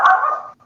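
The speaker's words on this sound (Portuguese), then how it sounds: "Temos cachorros aqui" A single short dog bark, close and fairly loud, fading quickly into near silence.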